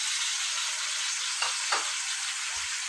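Bone-in chicken frying with onions in a karahi gives a steady, loud, hissing sizzle throughout, with a couple of faint stirring knocks partway through and no voices.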